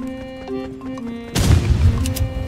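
A grenade goes off in the Roblox shooter Rivals, a sudden loud broadband blast about halfway through that rumbles on for roughly a second over steady game music, with sharp crackles trailing after it.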